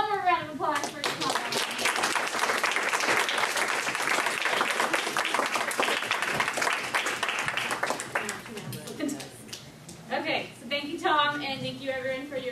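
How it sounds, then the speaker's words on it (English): A round of audience applause for a speaker at a homestead garden talk, sustained for several seconds before dying down into scattered voices and talk. "please give him one more round of applause for Tom."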